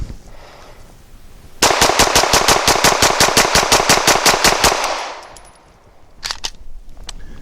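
A Canik TP9 Elite Combat Executive pistol fires a rapid string of about twenty close, loud, sharp shots in even rhythm, followed by quieter metallic clinks and handling noises afterward.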